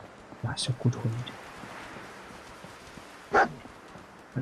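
A dog in the video game Fallout 4 lets out a few short barks near the start and another sharp yip later, set against a soft steady hiss of rain.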